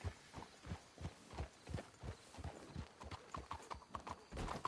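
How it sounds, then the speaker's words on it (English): Hooves clip-clop in a steady, uneven trot in the video game Red Dead Redemption 2, close and fairly quiet, with no talking. "Let's hitch the horses up ahead"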